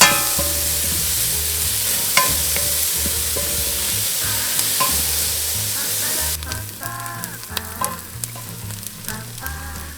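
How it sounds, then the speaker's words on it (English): Onions frying in butter in a pan, stirred repeatedly, give a steady close sizzle broken by the scrape and clack of a utensil against the pan, with the stirring growing busier toward the end. "Cook them until they're nice and soft."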